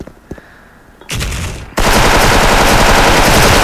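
An M4A1 rifle fires in the Special Force shooter game, starting with a short burst and then breaking into loud, continuous, close automatic fire that runs to the end.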